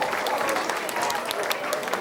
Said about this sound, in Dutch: Dankjewel, applaus.